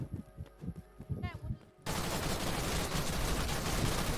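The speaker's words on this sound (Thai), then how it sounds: "เราเจอคนมันไล่ยิงเรา" Rapid machine-gun bursts from an enemy in the Roblox survival game Decaying Winter, first sporadic then a dense sustained rattle filling the second half, with speech heard early on.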